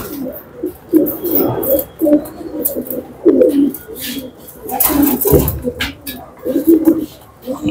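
Tippler pigeons coo in repeated low, throaty bursts close by, with handling noises and a voice speaking over them at times.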